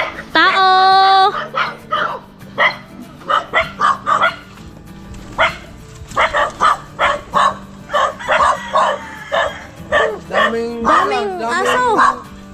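Several dogs bark repeatedly nearby, loud and overlapping, with a rooster crowing at the start and people talking among the barks.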